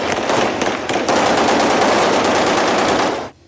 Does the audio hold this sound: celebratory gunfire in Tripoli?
yes